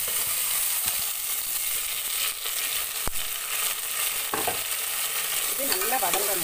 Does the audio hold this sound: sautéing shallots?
yes